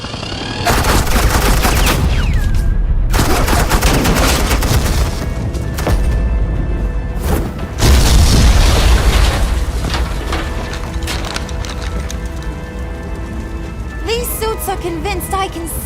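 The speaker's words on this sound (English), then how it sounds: "suppressing fire." Gunfire bursts and booms in a Telltale Batman video game, loud and continuous across most of the stretch, with voices talking over the shooting and a brief lull partway through.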